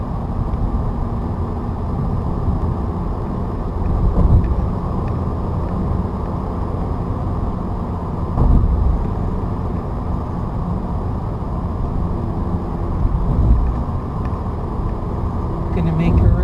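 A car with a manual transmission is driven steadily, its engine a continuous low rumble with brief swells as the throttle is eased on and it shifts up into fourth gear, while someone talks over it.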